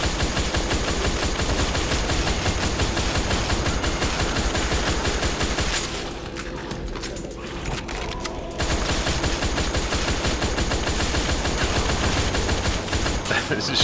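Zombies are being shot in the VR game Pancake House, with dense, rapid gunfire hammering almost without pause, loud and close, broken by one brief quieter lull midway.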